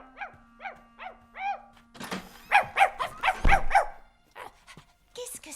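A dog barks in a rapid burst of several sharp, loud barks indoors with a heavy thump mixed in, following a few yelps, with people talking in a film scene.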